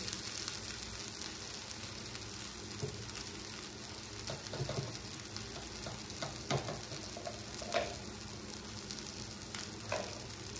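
Sabudana khichdi sizzles steadily in a pan while being stirred, with soft scraping clicks from the spoon over a continuous frying hiss.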